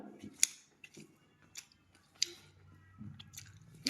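Close, quiet chewing of fried fish with rice, soft wet mouth sounds and a few sharper crunchy bites spread over a few seconds, with no talking.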